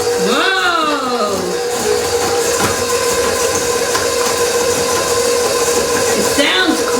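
A food processor on medium speed chops pecan sandie cookies mixed with cream cheese, giving a loud, steady whirring grind with a rising pitch at startup and a brief change near the end.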